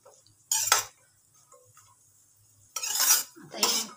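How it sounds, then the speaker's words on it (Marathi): A metal utensil scrapes and clinks in a pan while roasted cashews are moved onto a plate, giving three distinct scraping bursts close by with quiet gaps between them. "आता हे काजू काढून घेणार आहे प्लेटमध्ये।"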